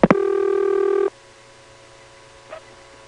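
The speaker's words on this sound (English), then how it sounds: "The Asheboro Toll NX1 rings like this" A single ring from an Asheboro Toll NX1 telephone exchange in North Carolina, 1977: a steady electronic ringing tone of about one second, then near silence with a faint click.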